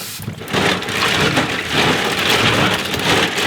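Loud, continuous splashing and sloshing of water, like food being scrubbed and swished vigorously in a basin, close up and steady throughout.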